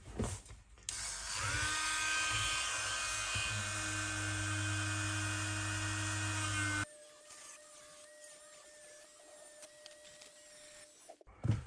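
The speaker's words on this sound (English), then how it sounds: "I'm going to put my gear into my rotary tool with a 2mm collet" A rotary tool fitted with a 2mm collet whirs loudly and steadily as it spins a slot car gear, then cuts off and gives way to quieter scraping as a knife cleans glue from the gear.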